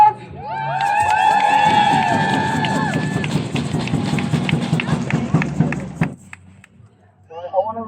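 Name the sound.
crowd applause and cheering at women's march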